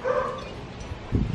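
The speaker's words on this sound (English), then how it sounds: "He's a really good dog. He's a nice dog. He's a puppy." A hyper young puppy, on a trip to the Bahamas, gives a short, close bark or yelp, followed a moment later by a low thump, with no talking.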